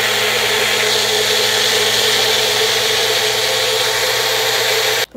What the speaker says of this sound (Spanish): entonces ahora lo vamos a licuar